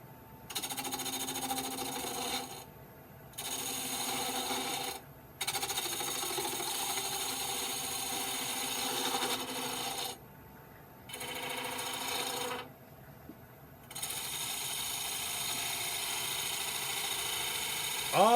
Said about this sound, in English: What I'm going to use is my 3/8 inch Ellsworth type gouge, and I'm going to slowly watch.